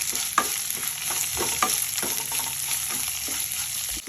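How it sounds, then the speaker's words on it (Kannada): Ridge gourd and tomato fry in a pan, a close, even sizzle broken by repeated scraping and stirring strokes of a spatula, with no one speaking. "ಇಟ್ಕೊಂಡಿರುವಂತಹ ಹೀರೆಕಾಯಿ ಹಾಕ್ತಾ ಇದ್ದೀನಿ. ಅದ್ರ ಜೊತೆಗೆ ಟೊಮೆಟೊನೂ ಹಾಕ್ತಾ ಇದ್ದೀನಿ. ಇದನ್ನು ಚೆನ್ನಾಗಿ ಹುರ್ಕೊಳ್ಳೋಣ."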